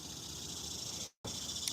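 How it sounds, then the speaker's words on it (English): Cicadas drone steadily in the bush at night beside a backwater canal, a dense continuous high-pitched buzz that cuts out abruptly for a split second and then resumes at the same level. "Some nasty cicadas are just in the bush all night long."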